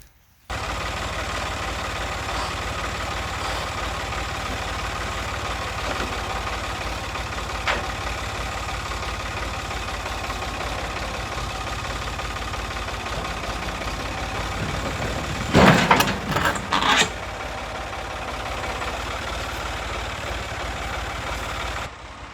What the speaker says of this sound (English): let me hook to the tractor, see if we can't pull it the rest of the way off